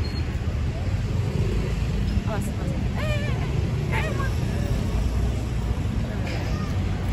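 A busy Blok M street in Jakarta, a business and shopping district near a bus terminal, gives a steady dense roar of passing traffic with voices in the crowd and occasional higher squeals.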